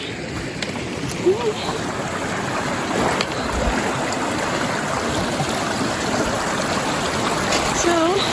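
A creek flowing beside a hiking trail near Blue Lake in Washington, a steady rushing, gurgling wash of water close by, with a voice speaking briefly over it.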